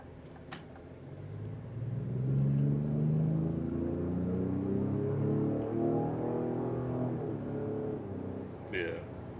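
A 2025 Ford Explorer ST with a 400-horsepower engine, driven in sport mode, gives a low steady engine rumble from inside the cabin that builds and holds, with a brief higher sound near the end.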